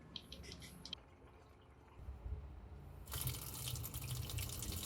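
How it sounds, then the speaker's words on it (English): Cooked rice being rinsed under a running kitchen tap, a steady wash of water that swells louder near the end after quieter moments, with faint voice-like sound in the background. "onward to the blasphemy of rinsing the rice"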